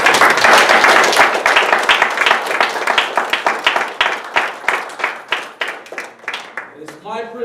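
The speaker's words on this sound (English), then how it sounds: "I ask you all to join me in a big round of applause for all of them." A big round of applause at a club contest banquet: loud, rhythmic clapping that slows and thins out, with a voice coming in at the very end.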